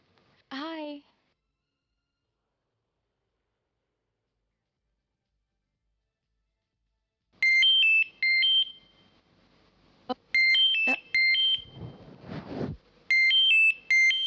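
An electronic phone ringtone in a Hindi horror TV serial chirps in repeated short bursts after a brief vocal sound and a long silence, with a faint voice between rings.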